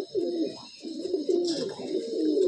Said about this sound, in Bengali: এই যে পায়রাটা বাচ্চা খাওয়াচ্ছে